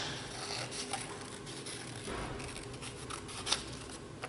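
Scissors snip and rasp through paper as a leaf shape is cut out for an art project, a close, steady scratchy cutting with one sharper snip near the end.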